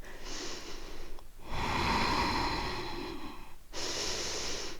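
Steady, deep breathing during a slow yoga vinyasa flow, one long audible breath in the middle framed by shorter airy exhales, close and clear with no talk.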